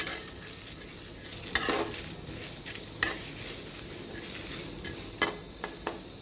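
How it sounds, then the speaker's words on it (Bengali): Chillies frying in oil hiss beneath sharp, intermittent scrapes and clinks of a spoon stirring the pan, several distinct strokes over a continuous close sizzle. "লঙ্কাটা একটু ভালো করে ভাজি"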